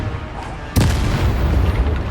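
Confringo spell blast in Hogwarts Legacy, a single sharp booming crack that lands mid-way and leaves a rumbling tail over busy game noise.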